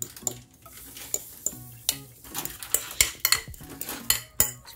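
Zucchini mixture going into a frying pan with oil, heard as repeated clinks and scrapes of utensils against the pan in an irregular rhythm, with a faint sizzle underneath and no talking.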